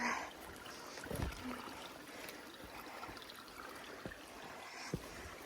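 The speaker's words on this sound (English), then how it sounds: "There's another waterfall up there." Waterfall along the Appalachian Trail, a steady rushing wash of water heard from nearby with a few faint knocks and bumps over it.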